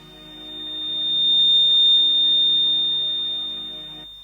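A steady, sustained whistle-like tone swells in and fades over a few seconds, loud and alone with no talking.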